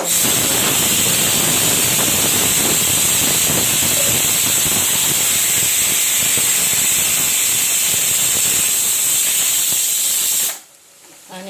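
Chopped onions fry in hot oil in a pan with a loud, steady, close sizzling hiss that runs almost without a break, then cuts off abruptly near the end.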